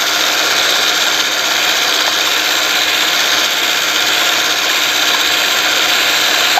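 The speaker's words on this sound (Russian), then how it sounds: "А шуруповерт там на" Steady, loud whirring of a cordless screwdriver spinning the bucket of a homemade seed spreader for mustard seed, running continuously without pause and with no talk.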